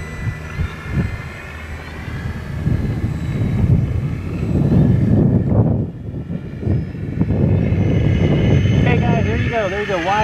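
An RC F8F Bearcat model airplane makes a wide-open high-speed pass, its buzzing propeller engine building and then sweeping past with a falling pitch, while people talk nearby.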